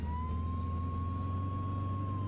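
Ambulance siren in the video game Flashing Lights, a steady sustained wail over a low engine drone, loud and continuous with no talking.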